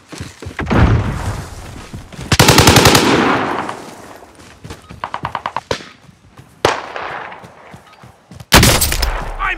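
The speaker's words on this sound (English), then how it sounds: "Throwing a flashbang." Call of Duty: Warzone gameplay with loud bursts of automatic gunfire, sharp bangs and thuds in rapid, irregular clusters, including a flashbang grenade being thrown, with no talk over the noise.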